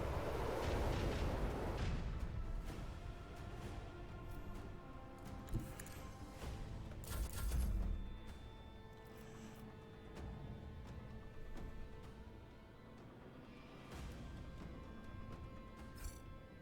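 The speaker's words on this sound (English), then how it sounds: "Macro cannons. Open fire." Macro cannons firing aboard a starship in the video game Rogue Trader during a battle with Drukari: heavy booming blasts, loudest in the first two seconds and again near eight seconds, over a sustained rumbling battle din and a steady tonal music bed.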